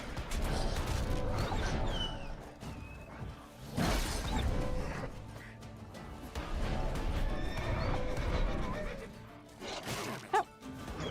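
The horse Roach in a video game whinnies loudly and gallops, with repeated neighs over a dense, pounding run of hoofbeats and some clattering, with no talk.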